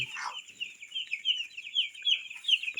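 Young chicks in a brooder call nearby in a continuous stream of high, trilling cheeps, a brief lower cluck at the start.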